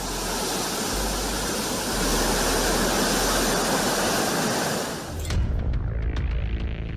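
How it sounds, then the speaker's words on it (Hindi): Heavy overflow from Nyari dam during intense monsoon rain in Rajkot, a loud continuous broadband roar of falling water that fills the scene, then drops to a lighter, more open rushing wash near the end. "इतनी बारिश हुई कि न्यारी डैम से पानी ओवरफ्लो होकर गिर रहा है।"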